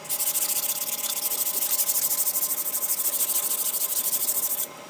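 Wood is hand-sanded with sandpaper along the grain before a PU polish finish: a steady, close, rhythmic rasping of rapid back-and-forth strokes that keeps up throughout and drops away just before the end.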